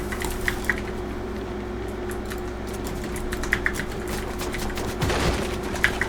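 Sparse, fairly faint bursts of video game gunfire crack out at scattered moments over a steady low hum, with no talk.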